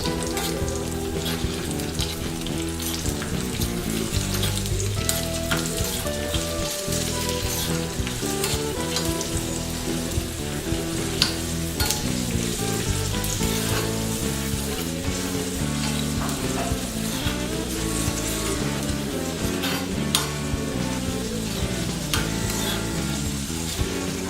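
Raisins fry in a crowded pan of hot fat for payasam, giving a dense, continuous sizzle and crackle that stays loud and close throughout, with occasional stirring and no voices.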